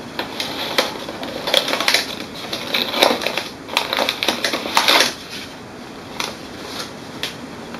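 Jammed paper is pulled from the clean-out area of an HP Ink Tank printer, giving a string of sharp, loud crinkling and clicking rasps, close up.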